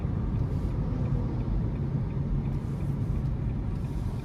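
A 2023 Nissan Leaf SV Plus, a front-wheel-drive electric car, pulling hard, heard from inside the cabin as a steady, dense road and tyre rumble with no engine note, holding fairly even throughout.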